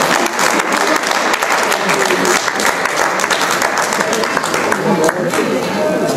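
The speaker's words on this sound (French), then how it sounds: "Est-ce qu'on peut acclamer très fort pour les seigneurs?" An audience cheers and applauds loudly for two brothers at a celebration, dense sustained clapping and crowd noise throughout.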